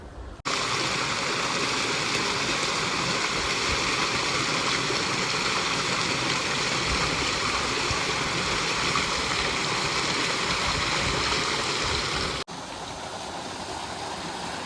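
Water released into an irrigation channel in a farm field rushes and gurgles steadily, a loud, continuous close-up flow that runs unbroken for the whole stretch.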